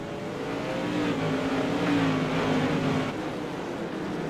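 Modified race car engines roar steadily around the Charlotte Motor Speedway Legends oval, a loud continuous drone with a slight swell in the middle as the pack passes.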